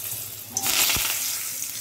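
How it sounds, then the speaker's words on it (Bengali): Whole spices hit hot white oil for a Bengali-style rui fish rezala and burst into a steady, bright sizzle that starts abruptly and holds for over a second, close and moderately loud. "সাদা তেল গরম করতে দিয়েছি, গরম হয়ে গিয়েছে, ফোড়ন দিয়ে দিচ্ছি।"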